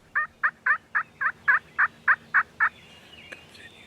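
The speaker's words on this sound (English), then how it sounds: "An old high school buddy of mine, Jethro, invited me out to turkey hunt with him after roosting some birds the night before" Wild turkeys gobble at a hunt, ten rapid, evenly spaced calls rising in a loud, close series, then a faint trailing call in the quiet afterward.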